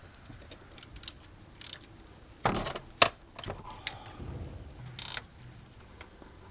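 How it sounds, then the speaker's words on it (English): A long-handled socket wrench breaks loose and turns a starter bolt on a 1995/1996 Infiniti I30, giving scattered metallic clicks and sharp knocks at close range, with no talking. "If you use a long-handled socket wrench, you'll be able to loosen that or break it loose."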